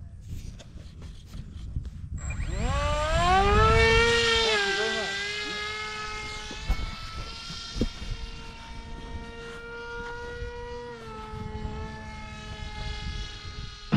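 A Flite Test Alpha electric model airplane, a 736mm kit build, flies overhead with a rising electric-motor whine that swells loud and close, then holds steady as it cruises past over outdoor background noise.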